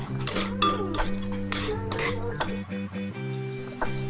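A spoon clinks and scrapes repeatedly against a pan while paneer is stirred into masala gravy, close and fairly loud over a soft musical background.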